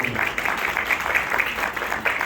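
An audience at an elementary school ceremony claps for new Safety Patrol officers, producing a steady patter of applause that stays at an even level throughout.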